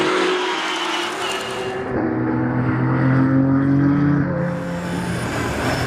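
Ferrari 488 Challenge race cars on a circuit, a loud engine roar with rising and falling whine as revs climb and drop, sustained and fairly near throughout.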